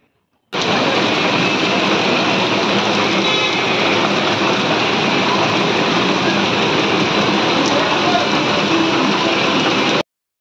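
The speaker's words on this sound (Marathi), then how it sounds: "सकाळपासून एकदम जोरात पाऊस पडत होता।" Steady, dense rush of heavy rain pouring without a break, loud and constant from start to finish, with no voices over it.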